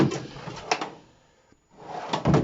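A workshop drawer filled with nuts and bolts slides open and shut, a close scraping rumble with metallic rattles that fades out midway and then returns.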